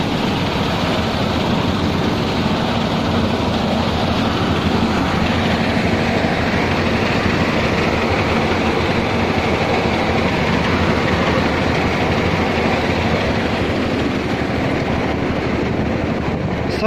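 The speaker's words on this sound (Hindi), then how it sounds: "हड़म्बा चल रहा है जॉन्डियर जुड़ा है हड़म्बे से" A thresher driven by a John Deere tractor runs during a mustard harvest in an open field, a dense continuous mechanical roar and rattle, steady and close with no pauses.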